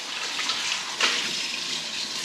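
Tap water runs steadily into a kitchen sink while dishes are washed, a close, continuous hissing splash with a brief louder gush midway and no talking.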